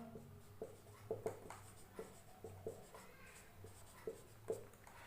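Chalk or marker writing on a classroom board while a physics force value is worked out, a run of short scratchy strokes and taps at a steady hand pace, close and fairly quiet, with no talk.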